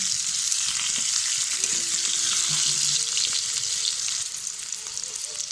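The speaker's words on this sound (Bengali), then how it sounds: "আমি একটা কড়াইয়ে আলু আর হলুদ দিয়ে আলুটাকে ভেজে নেব।" Potato pieces with turmeric fry in a wok over a clay stove, giving a steady, loud, close sizzle that runs throughout, with faint stirring scrapes and no talking.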